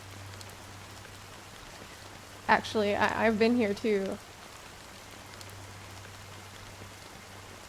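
Steady rain falls in an even hiss throughout, with a person speaking briefly in the middle.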